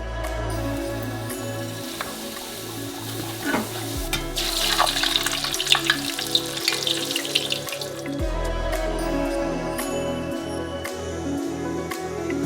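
Dough chips for a giant homemade Skittles project frying in hot oil, a steady bubbling sizzle with watery hiss that grows busier and louder midway, continuous with no talk.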